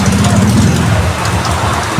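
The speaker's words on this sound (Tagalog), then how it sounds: "Malakas ang ulan." Heavy rain pours over the Divisoria market in a steady, dense wash, with low rumbling traffic or crowd noise underneath and faint voices in the background.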